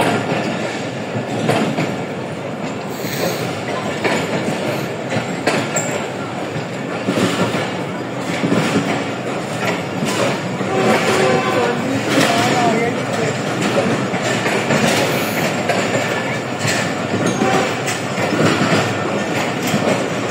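The Jaffar Express bound for Quetta pulls out of a railway yard at low permitted speed, its wheels clattering steadily and loudly over the rails throughout with no pause, while someone talks over it.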